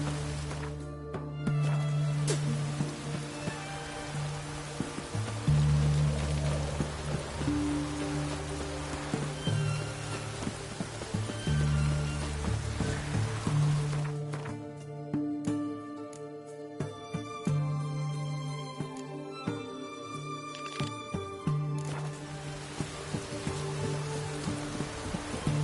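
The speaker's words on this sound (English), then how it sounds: "Looks like rain." Steady rain in The Witcher 3: Wild Hunt on PS4 Pro, a dense continuous patter over low ambient game tones and music throughout.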